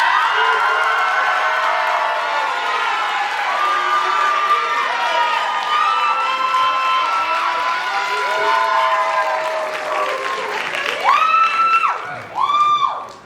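Applause and cheering from a crowd at a university Vietnamese student culture show carry on continuously, with whoops and voices mixed in, before a speaker starts talking.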